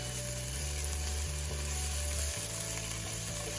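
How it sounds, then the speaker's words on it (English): Potatoes sizzle and fry steadily in a skillet over medium heat, with a stirring stroke part way through shifting the crackle; the frying stays loud and continuous throughout. "Tip up the lid, give it a stir."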